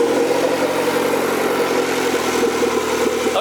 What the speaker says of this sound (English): I'll have Jonathan start his car up